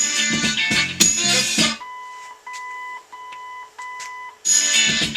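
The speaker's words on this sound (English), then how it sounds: "Stop moving the control, it'll beep once" A short electronic beep tone from a 1973 MGB's original AM radio control repeats several times in a quiet gap between louder noisy passages.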